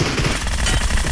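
Sustained automatic fire from a P90 or Groza in a 25-versus-25 PUBG Mobile battle rattles on as a loud, dense, continuous burst at close range.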